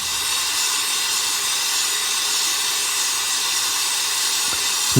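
A Smiths Little Torch with a multi-jet casting and melting nozzle roars as a steady, loud, broadband hiss while gold melts in a crucible, unbroken throughout.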